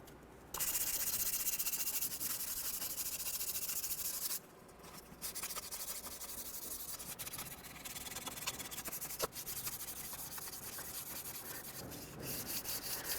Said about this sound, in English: we're going to use our sanding block with a fine sandpaper, and we're going to just clean this